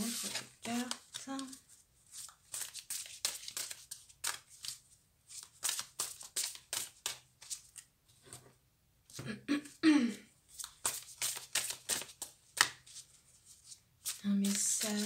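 Tarot cards shuffled by hand for a reading, repeated quick riffling bursts in close succession with short pauses, someone speaking softly in between.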